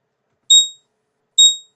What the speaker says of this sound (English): Sorry for the alarm, guys.